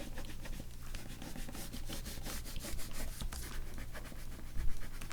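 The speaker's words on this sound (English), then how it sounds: "let's just rub out these lines" A pencil eraser rubs back and forth across paper in quick, repeated scrubbing strokes, close and fairly soft, continuing steadily throughout with no voices.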